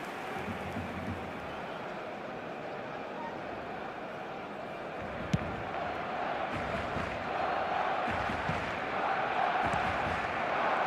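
Stadium crowd noise in the eFootball football video game, a steady murmuring roar that swells toward the end, heard under continuous match commentary.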